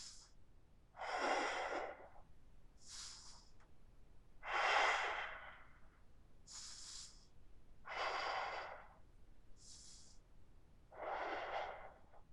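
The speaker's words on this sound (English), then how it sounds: "So thinking about breathing into your right lung." Slow, deep yoga breaths alternate between airy inhales and longer, fuller exhales, about eight in all, close and clear in a quiet room with no talking.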